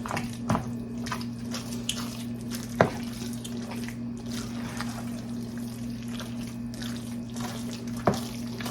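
Water trickles and splashes into a cooking pot alongside a steady low hum, with a few sharp clinks of metal scattered through the continuous flow.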